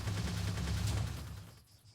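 A fast, continuous rattle of rapid cannon fire in Minecraft with the Create mod that fades out near the end, with no talking.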